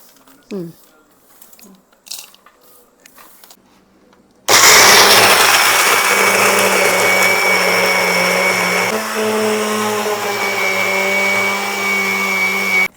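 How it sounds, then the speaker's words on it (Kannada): A kitchen mixer grinder grinding sesame seeds and dry coconut into powder starts with a sudden loud whine after brief talk and handling noises, then runs steadily and close, with a slight dip in pitch partway through. "ಎಲ್ಲ ಮಿಕ್ಸ್ ಮಾಡಿಕೊಂಡು ಗ್ರೈಂಡ್ ಮಾಡ್ಕೊಂಬಿಡೋದು, ಎಲ್ಲ ಪೌಡ್ರ್ ಮಾಡ್ಕೊಳ್ಳೋದು"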